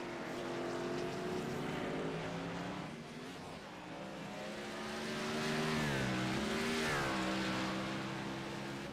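NASCAR race cars roaring through the final turn of the Charlotte Roval in a racing video game, engines droning with rising and falling tones as revs shift, steady and fairly loud, no talking.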